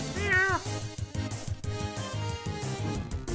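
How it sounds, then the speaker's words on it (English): A cartoonish cat meows in a video game, a rising-falling mew near the start over a busy, rhythmic game music track with clicks and beats. "You scratch crying cat behind the ears."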